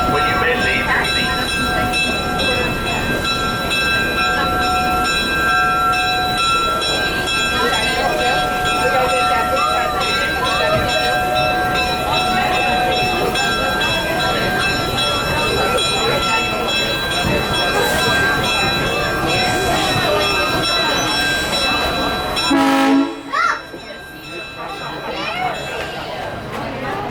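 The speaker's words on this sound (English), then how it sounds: "Brought our train to a complete stop." A heritage railroad train rumbles and clatters at steady loudness, with metallic tones ringing over the rolling noise, then the sound drops away as it comes to a stop.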